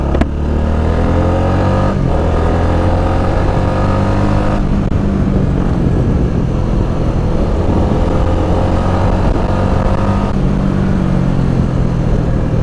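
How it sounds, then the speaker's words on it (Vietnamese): A Honda Winner X motorcycle running on 10W30 oil, its engine idling in a loud, steady, close drone with a few slight shifts in pitch. "nổ máy cho các bạn xem tiếng máy của nó có xào không nhé"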